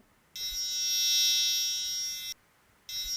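An Arduino buzzer triggered by a Pinoo water level sensor dipped in water gives a shrill, steady electronic tone that stops briefly and then starts again, with no talking.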